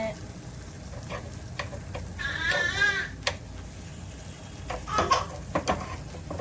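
Kuzhi paniyaram made with tapioca fries in a pan with a bubbly sizzle, broken by short scraping and clinking sounds as the pieces are turned, without any talk.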